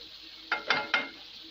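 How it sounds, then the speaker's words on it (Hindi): Potato biryani ingredients fry in a pan, with three quick scraping stirs rising over a faint background sizzle. "और इसके साथ ही ये फ्राई हो रहा है"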